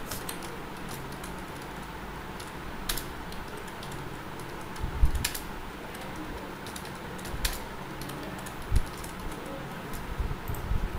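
Sparse keyboard typing at a Microsoft Word class, with scattered single key clicks and occasional firmer taps over a low room hum, quiet and alone.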